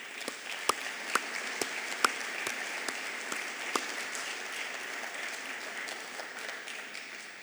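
A seated audience, including a tie-wearing front row, applauds Magna company employees, with several sharp individual claps standing out at first before settling into steady, moderately distant clapping.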